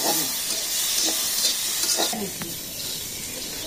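A whole fish frying in a pan at a Bangladeshi village cookfire, stirred as it cooks, gives a steady close sizzle and hiss with scraping stirs throughout.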